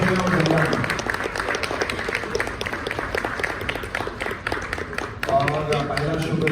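An audience at a Heeramandi film promotion event in Delhi claps in a sustained burst of many hands, fairly loud and steady, while someone speaks over the applause.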